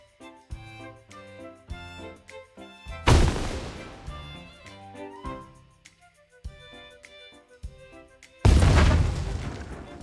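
Two loud, booming explosions in a video game, each a sudden broadband blast that rings out and decays over a couple of seconds, set within game music and effects.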